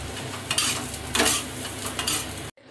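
Vermicelli fries in ghee in a wok, with steady sizzling broken by several scraping, clattering stirs of a metal utensil, close and fairly loud, no voices, ending abruptly.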